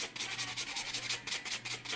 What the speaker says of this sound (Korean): 그 다음 버퍼로 샌딩 작업할 때도 사지를 반드시 껴주셔야 됩니다.